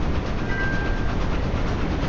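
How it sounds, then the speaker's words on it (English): Train running in the Railroads Online video game, a loud steady rumbling roll with a faint squeal, continuous and close throughout. "I can slow the train down."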